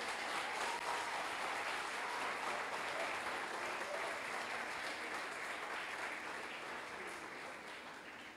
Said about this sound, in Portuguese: Dê uma salva de palmas ao Rei